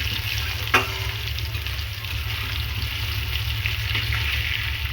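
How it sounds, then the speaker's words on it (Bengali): Onions turning reddish as they fry in a pan make a dense, loud sizzle with a low rumbling hum beneath, a sharp clink of a spatula early on, and no speech. "দেখো ভাজা মোটামুটি হয়ে গেছে লাল লাল করে একটু ভাজা হয়ে গেছে"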